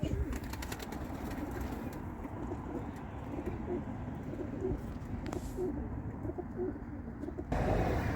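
Pigeons coo softly in a steady low murmur against a constant background hum, fairly distant, with a brief louder burst near the end.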